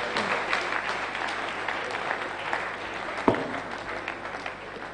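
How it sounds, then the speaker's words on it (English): A conference audience applauds together, a dense, steady clapping that fills the room and slowly thins toward the end. "Please, we can have a big round of applause for Professor Kolawole."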